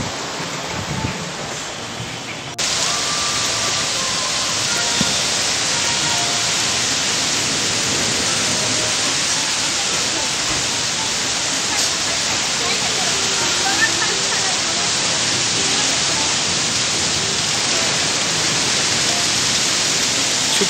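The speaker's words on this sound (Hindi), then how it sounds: "बारिश थोड़ी तेज ही चालू हो गई" Heavy rain pours down outdoors during a storm with strong wind, a dense, unbroken roar that jumps abruptly louder after the first couple of seconds and stays steady and close.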